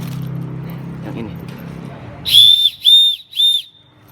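A survival whistle that doubles as a keychain gives three loud, shrill blasts close by, each about half a second long, after a stretch of quiet talking.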